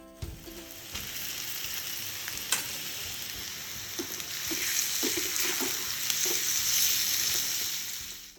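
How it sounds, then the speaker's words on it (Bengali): Raw onions hiss and sizzle in hot oil in a pan while a utensil stirs them, with scattered scraping and clinking over a continuous frying crackle. "তো পেঁয়াজের ভিতর তেলের ভিতর পেঁয়াজ দিয়ে দিলাম, এরপরে একটু নাড়াচাড়া করবো প্রথম দিকে"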